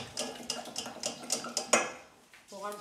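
A spoon scrapes and clinks against a pot on the stove while a tart filling of mixed ingredients is stirred over low heat, in quick rhythmic strokes with faint speech under it.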